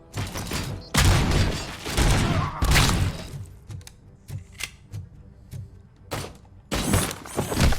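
Loud gunfire bursts in the video game Robocop Rogue City, heavy volleys alternating with sharp single shots and thuds, the blasts close and booming with quieter gaps between them.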